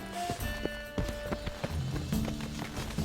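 Horse hooves clip-clop in the stables in The Witcher 3: Wild Hunt, a handful of distinct hoof strikes at irregular intervals over tonal game music and ambient sound.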